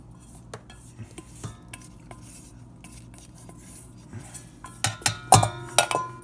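Warm chocolate gets stirred into an egg mixture heated to about 110 degrees for cake-type brownies, with soft scraping and utensil clinks against a bowl that turn louder and sharper toward the end.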